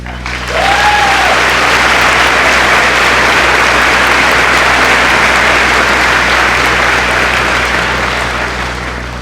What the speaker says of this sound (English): Please join me in a round of applause for Miss Cotney.